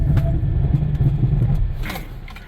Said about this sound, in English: ABS, right to a stop.